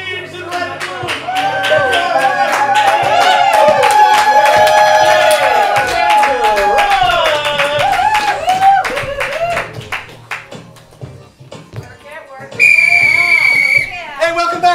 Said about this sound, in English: big round of applause for our teams in Red